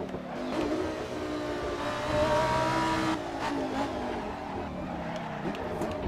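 Race car engine in a racing video game, a steady mid-pitched drone rising and falling with gear changes, continuous and fairly quiet throughout.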